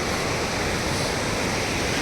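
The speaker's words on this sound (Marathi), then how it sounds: "नदीचा आवाज बघताय" A mountain river in the Urgam Valley of the Himalayas rushes in a loud, steady, broadband roar that continues evenly throughout, with no voices.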